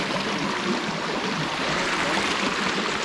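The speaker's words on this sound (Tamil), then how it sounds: "இங்கே பாருங்கள், அடர்ந்த காட்டிலேருந்து தண்ணி வர்ற மாதிரி வருது" Murky river water in the Yelagiri hills flows out of dense forest with a constant, even rushing hiss, full and close, with no voices.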